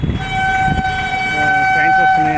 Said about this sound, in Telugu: సో వైట్ కలర్ ట్రైన్ వస్తుంది చూడండి, వైట్ కలర్ ట్రైన్ అంటే లోకల్ ట్రైన్స్